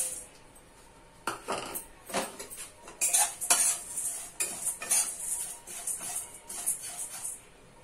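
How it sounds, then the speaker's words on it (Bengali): Flattened rice (chira) dry-roasting in a pan with no oil: a metal spatula scrapes and rattles it in bursts of stirring, close and fairly loud after a quiet opening second, with no voices. "এবার আমি চিড়েটাকে ড্রাই রোস্ট করে নেব।"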